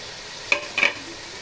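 Boiled white chickpeas are stirred into a pan of masala: two quick metallic scrapes of a spoon over a faint low sizzle, close and brief.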